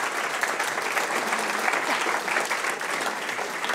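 An audience claps at a Dutch book presentation, a full, steady round of applause from a room of people that carries evenly throughout.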